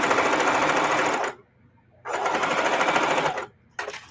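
A domestic sewing machine runs in two long steady bursts with a pause between, stitching a quilted mug rug, then starts again briefly at the end; the whirring motor is close and loud with no talk.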